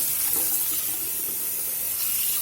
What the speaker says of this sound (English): Just gonna get them rinsed here pretty good while they drain.